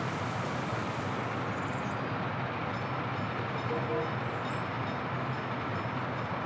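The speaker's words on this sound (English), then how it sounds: "this is the fancy new train making a run" New train in the video game Workers & Resources rolling along as a steady, even rumble of wheels and carriages, continuous and fairly loud with no breaks.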